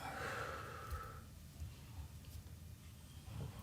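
A long, breathy exhale during a seated yoga forward fold, close and clear at the start, then fading into soft room noise with faint breathing.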